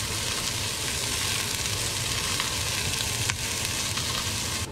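Onion and ginger sautéing in a pan, a dense steady sizzle and crackle that fills the whole stretch, close and moderately loud with a couple of faint utensil scrapes.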